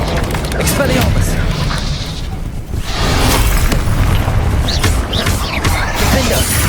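A spell cast in Hogwarts Legacy, a disarming Expelliarmus blast, booms out loud and dense amid continuous combat crashes and bursts, with a brief dip before the clamor resumes.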